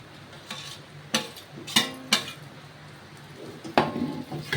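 A spoon stirs bitter gourd into spiced masala sizzling in oil, with several sharp scraping clinks against the pan over a soft frying hiss.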